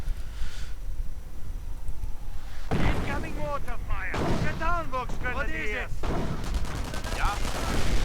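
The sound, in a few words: gunfire and sniping in a WWII strategy video game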